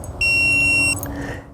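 Dog training remote sends out one clear, high electronic beep lasting under a second over quiet room noise, close and alone.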